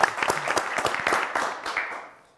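A quiz show studio audience breaking into a short round of clapping, brisk and fairly close, with a voice briefly over it before the applause thins and fades out.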